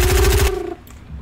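Burst of automatic assault rifle fire in the Fortnite battle royale game, loud rapid repeated shots for about half a second, then fading away.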